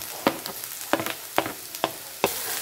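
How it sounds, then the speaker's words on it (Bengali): Capsicum pieces drop into a hot pan for a veg bread roll filling, bringing several short crackling sizzle bursts at irregular intervals, fairly close and with no talking. "এবার আমি ক্যাপসিকামগুলো দিয়ে দিচ্ছি"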